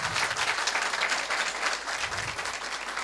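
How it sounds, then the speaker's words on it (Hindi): Loud, dense audience applause at a Sanskrit festival event, continuous clapping from a large crowd filling the whole stretch at steady volume. "उनके लिए जोरदार तालियां"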